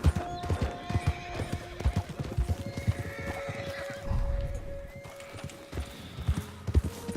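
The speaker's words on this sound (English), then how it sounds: "Oh, horses." In a video game, Red Dead Redemption 2, hooves clip-clop in an uneven rhythm while a horse neighs loudly partway through, with other horses snorting nearby.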